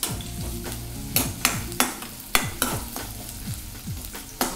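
Finely chopped onions frying in hot oil for a Telugu coconut-milk okra curry, a steady close sizzle broken by several sharp scraping stirs of a utensil in the pan.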